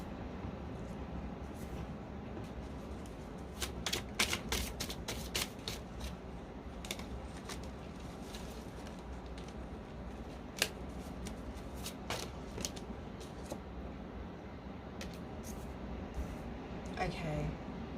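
Tarot cards are shuffled continuously at close range, a quiet run of rapid riffling and flicking with sharp snaps scattered throughout.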